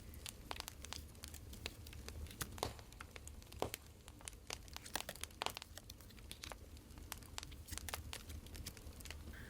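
Tarot cards are drawn from a deck, giving faint, crisp crinkling and flicking rustles in quick irregular bursts, close by and quiet, with no voices.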